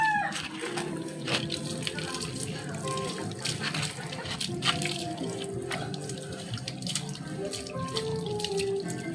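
Water runs steadily from a tap while a dog is bathed, splashing and spattering at close range as people talk over it.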